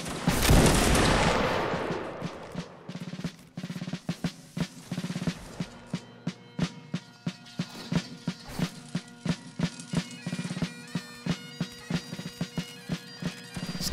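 A massed musket volley in the Napoleonic Wars game during a regimental line battle cracks out in one loud rolling burst, then fades into a long run of evenly spaced sharp clacks that keep a steady beat.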